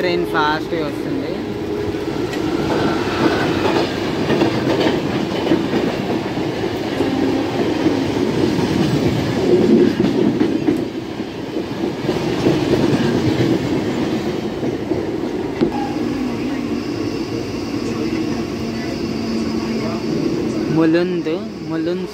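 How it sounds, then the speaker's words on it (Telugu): A Mumbai suburban local train speeds along the tracks on a rainy day between Kurla and Mulund, a loud, continuous rolling rumble with rhythmic clatter of wheels over rail joints, sustained throughout with voices faintly underneath. "ఏదో ట్రైన్ ఫాస్ట్గా వస్తుంది."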